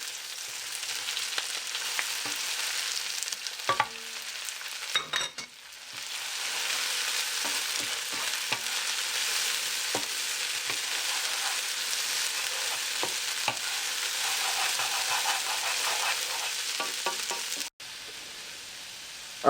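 Broccoli fries in a pan for a sweet and hot pork stir fry, a steady close sizzle with occasional clacks and scrapes of stirring, continuing alone for a long stretch.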